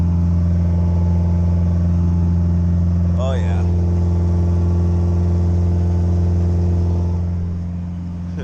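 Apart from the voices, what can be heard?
Mazda B2000 truck 4-cylinder engine idling high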